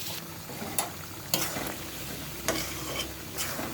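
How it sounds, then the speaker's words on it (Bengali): Duck meat sautés in a pan with a steady low sizzle, broken by several distinct scraping strokes of a spatula stirring the meat, close and clear with no voices. "কষানো আরেকটু কষানো হবে"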